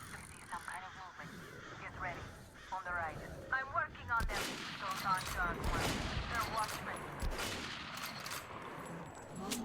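Rapid bursts of gunfire from a weapon in the video game Metro Last Light Redux crackle over a busy mix of game sounds, with a person talking at times.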